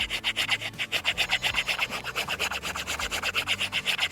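Rapid rhythmic scraping of a Condor Terrasaur knife's 90-degree spine across wood, a steady raspy back-and-forth stroke repeated many times, close and alone.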